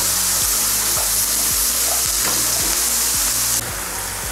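Onion browning in a frying pan alongside liver for pâté, a loud steady sizzle with rhythmic scraping stirs roughly twice per second, close up with no talking.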